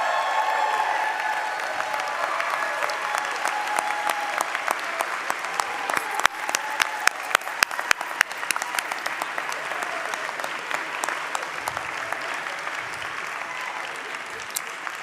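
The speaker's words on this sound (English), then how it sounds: "So you should be applauding yourselves for that good work." Sustained applause from a large audience at a United Methodist jurisdictional conference, dense and steady for about fifteen seconds with clear individual claps, heard from within the hall.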